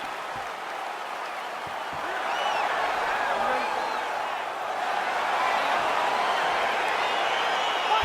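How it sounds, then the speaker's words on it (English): Crowd in the EA Sports UFC 4 video game cheering and applauding as a fight gets underway, a steady broad roar at moderate distance that swells slightly midway, with a commentator talking over it. "crowd getting excited as this fight gets underway"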